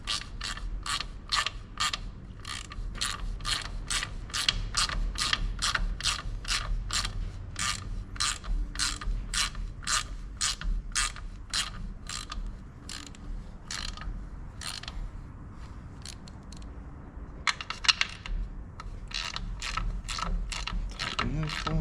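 Hand ratchet tightening bolts on a tractor, a long steady run of sharp rhythmic clicks close up, pausing briefly near the end before a final quick burst.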